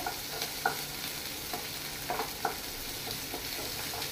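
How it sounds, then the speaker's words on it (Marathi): Paneer fries in a pan for matar paneer with a constant close sizzle, broken by a few light clinks and scrapes of a stirring spoon, and no voices. "हे बरें अशें फ्राय करून घेवपाचे"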